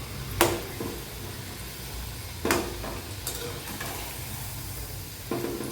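Onion bhaji fritters frying in hot oil, a constant close sizzle broken by three sharp utensil scrapes or clinks spaced a couple of seconds apart.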